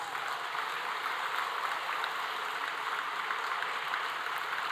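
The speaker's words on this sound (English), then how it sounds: "Let's give a big round of applause to all the MTech graduates" Audience applause for MTech graduates at a departmental degree distribution ceremony, a steady, dense wash of clapping that holds evenly throughout with no voices over it.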